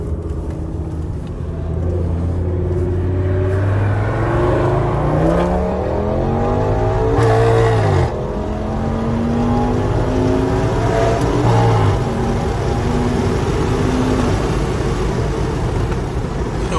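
An Audi RS6 sports car tuned to 1000 horsepower roars as it accelerates hard in sport mode, pitch climbing and dropping with each gear change, loud and continuous from inside the car.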